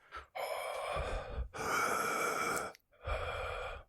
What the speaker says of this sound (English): you can hear breathing right on the other side of that door, like a massive bellows in a blacksmith